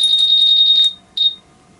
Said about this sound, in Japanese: 車体を、こう、誰かね、盗もうとかいう時に、動かすと、こういう感じでアラームが鳴る仕組みとなっております